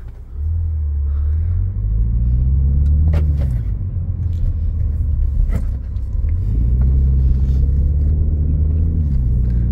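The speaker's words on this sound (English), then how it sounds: "let's go ahead and strap on the seatbelt and we'll take it for a quick little trip around the block" A 2018 MINI Countryman Cooper S drives around the block, heard from inside as a loud, steady engine drone that swells under acceleration, eases off midway, then builds again, with occasional clicks and bumps.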